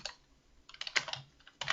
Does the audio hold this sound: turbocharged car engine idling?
no